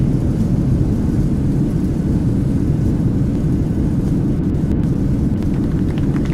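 Airliner engines spool up into reverse thrust during landing rollout in a flight simulator, a loud, continuous low roar that holds steady and fills the whole moment, with no voices.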